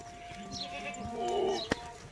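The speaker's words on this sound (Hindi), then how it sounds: "ये देखो भारे बकरे सारे" Goats bleat at a goat farm, with a drawn-out, wavering bleat at moderate distance over steady outdoor background noise and a short sharp knock near the end.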